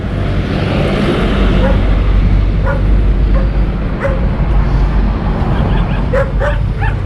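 A big dog's barks ring out intermittently over a constant loud rumble of engine or wind noise, the barking short and scattered across the clip.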